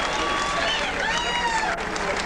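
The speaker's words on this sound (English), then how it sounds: "how about a nice round of applause for Cecil Country Boy Coffey? A nice round of applause for that young man" Crowd applause and cheering for a boxer after a professional fight, a steady, dense roar with a commentator talking over it throughout.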